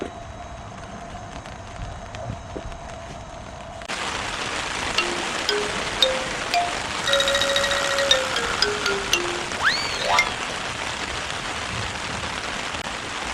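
Rain falls on a backpacking tent at a pine-grove campsite, a steady fine patter that grows denser midway, with scattered louder drops and faint tones of other sounds in the background.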